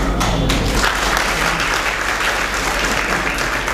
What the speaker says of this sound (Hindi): बार बार ताली नहीं बजाओ